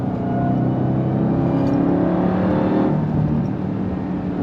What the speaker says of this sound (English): But man, the torque, the power, the supercharger whine.